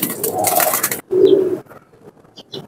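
Teddy pigeons, a pair of salara teddy birds, coo in low soft bursts close by, with a few brief higher chirps toward the end and no talk.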